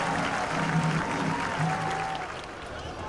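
A large crowd at a college football game, UAPB versus Morehouse, applauds the dignitaries in a broad continuous roar of clapping that carries across the stadium, steady and then slightly fading, with faint voices and tones beneath.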